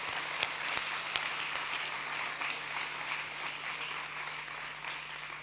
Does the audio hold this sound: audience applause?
yes